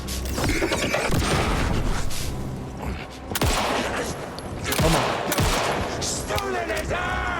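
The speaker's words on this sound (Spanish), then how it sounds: "Los disparos también están cuidados." Rapid gunfire and bursts of automatic weapon shots crackle through an action video game trailer, dense and loud over music and effects, with a brief spoken word in the mix.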